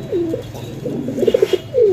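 A pigeon at close range gives a short series of soft, throaty coos, a quick rhythmic burst between longer drawn-out calls, with no talking over it.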